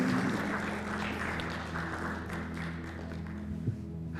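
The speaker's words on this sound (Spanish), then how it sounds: "Un fuerte aplauso para el Señor" Scattered clapping from a church congregation, fairly subdued and steady over a low hum, with one sharper thump near the end.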